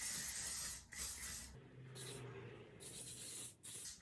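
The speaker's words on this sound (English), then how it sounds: "I'm gonna give it one more spray." Hairspray hisses onto soft-waved hair in several close bursts of varying length, with brief gaps between pumps and a soft rustle of hair underneath.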